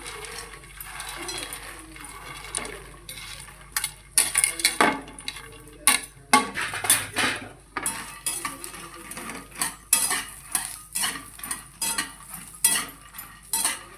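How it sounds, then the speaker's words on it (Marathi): Makhana (fox nuts) are stirred and roasted in ghee in a pan. Irregular metallic clinks and scrapes of a spoon against the pan come close and moderately loud, with soft rustling between strokes and a faint low hum underneath. "तुपावर छान परतून घ्यायचं आपल्याला हा मखाना"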